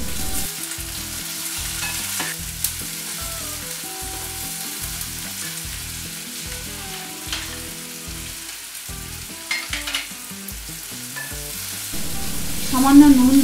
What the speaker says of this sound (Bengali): পেঁয়াজ রসুন একটু ভাজা ভাজা হওয়ার পর টমেটো কুচি দিলাম।